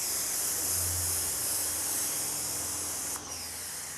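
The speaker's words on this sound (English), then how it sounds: "Can you get too close with a pressure washer?" A pressure washer sprays water to rinse a car, giving a loud, continuous close hiss that lasts the whole moment, with a brief dip near the end.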